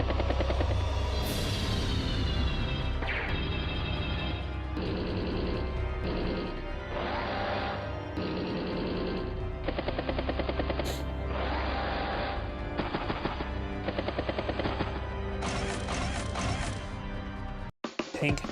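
Battlecopter attacks and gunfire in Advance Wars: Days of Ruin make up a dense stream of game effects and music: repeated mechanical bursts and impacts with a rotor-like drone, loud throughout, ending in a sharp crash near the close, with a commentator talking over it.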